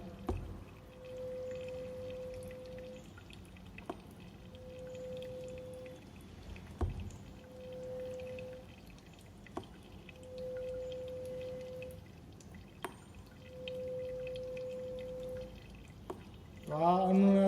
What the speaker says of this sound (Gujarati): તો આ અનુનાદ થવાના કારણે આપણે અવાજ સંભળાય છે બોટલમાંથી.